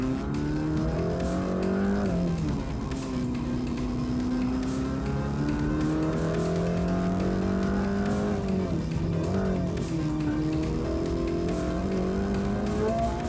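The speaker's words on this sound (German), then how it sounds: "Mit einem neuen Reifensatz schießt der Tikt GT los." A tuned Mercedes-AMG GT race car on fresh tyres accelerates hard on a track lap, its engine note rising steadily and loud through the gears with brief dips at the shifts.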